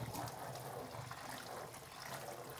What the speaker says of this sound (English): now I'm going to go ahead and rinse it out with some hot water